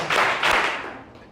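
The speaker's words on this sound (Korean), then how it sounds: "박수 3번 시작." A church congregation claps in quick unison bursts: two strong, sharp claps close together, then a fainter third as the sound fades.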